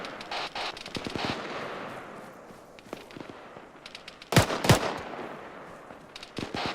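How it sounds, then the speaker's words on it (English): Gunfire from an enemy bunker on a hilltop in the military shooter ArmA 3, with scattered distant shots through the clip and a louder, sharper burst of reports near the end. "Taking fire, we're taking fire from that fucking bunker on that hilltop to our south"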